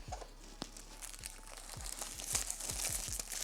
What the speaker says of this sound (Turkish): Şöyle yırtıyorum arkadaşlar jelatini yavaşça.